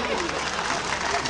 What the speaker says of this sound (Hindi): तालियां बजा दें उनको भाई